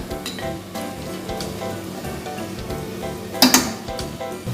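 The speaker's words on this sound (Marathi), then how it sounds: "हे अजून थोडे गोल्डन ब्राऊन करून घेऊया आपण।" Onions fry in oil until golden brown, a loud, close, continuous sizzle with a sharp metallic clink of a utensil against the pan near the end.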